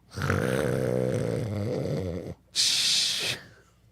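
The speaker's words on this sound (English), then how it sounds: "do you really snore like that?" Loud, rasping snores close up, one long rattling inhale followed after a brief pause by a harsher, hissing breath.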